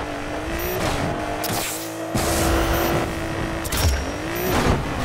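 Nissan R32 GTR engine revving hard at a drag launch in Need for Speed Payback, a sustained loud engine roar with rising pitch and a brief dip before surging again.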